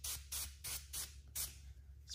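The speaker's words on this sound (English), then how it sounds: "Spray a little cleaner on that." Windshield cleaner is spritzed from a trigger bottle in a series of short, sharp hissing bursts, about six quick sprays in a row, close and fairly soft.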